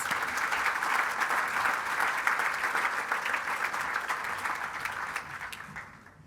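An audience at a school awards ceremony applauds students receiving subject merits, a steady, dense wash of clapping from many hands that holds evenly and then fades out at the end.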